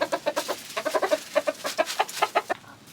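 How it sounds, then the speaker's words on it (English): Backyard chickens being fed give a quick, steady run of close, rhythmic clucks, one short call after another with no talking. "Here you go, chickies"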